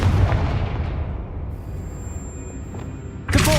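Confringo blasting spell in Hogwarts Legacy: a heavy booming impact with low rumble opening the sequence, a fading tail, then another loud burst near the end, with game ambience between.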